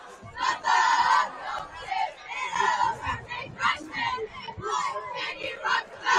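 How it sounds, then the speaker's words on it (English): High school cheerleaders from two football teams chanting a cheer together at a varsity game, loud rhythmic group shouting carrying across the stands with crowd noise throughout. "Riverside and Shenango Wildcats doing a cheer by themselves together"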